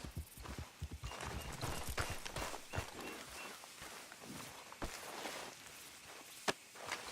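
Horse hooves clip-clop steadily across ground in Red Dead Redemption 2, a close, uneven walking rhythm of dull knocks with occasional sharper strikes over a soft ambient bed.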